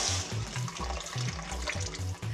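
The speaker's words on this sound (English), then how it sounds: "we need to rinse those out in some salt water" Food for Lebanese stuffing is rinsed and rubbed in a bowl of salt water, with close-up sloshing and splashing mixed with repeated low thumps.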